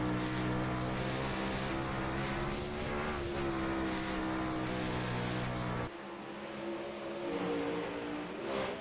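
A race car engine roars loudly from an onboard camera during an oval-track heat race, with a sustained high-revving drone that suddenly drops and thins near the end.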